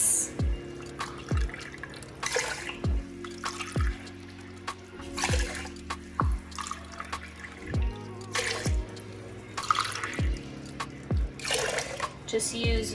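Water from a kitchen tap drawn for cooking rice, running in several short bursts between hollow knocks and thumps of the pot or cooker being handled nearby.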